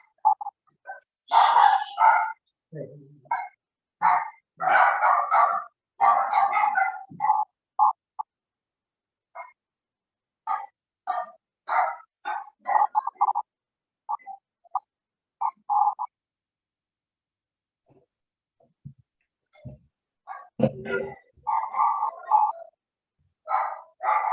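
A dog barks in repeated short bursts, some in quick pairs and some spaced apart, loud and close, with a few gaps of silence between the volleys.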